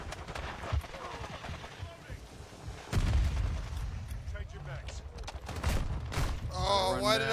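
Gunfire and cruise missile explosions in a Call of Duty multiplayer match: bursts of rapid shots and heavy booms, with a strong blast near the middle, under occasional game voices.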